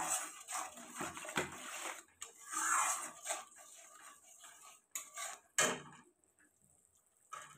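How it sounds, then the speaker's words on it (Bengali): A spoon stirs chana dal with cumin powder and salt in a pot, intermittent scraping and clinking strokes up close, separated by short quiet gaps, with a faint voice now and then. "দিয়ে দেবো আমি জিরের গুঁড়ো, পরিমাণ মতো লবণ দিয়ে দেবো, দিয়ে একটু নাড়িয়ে নেব"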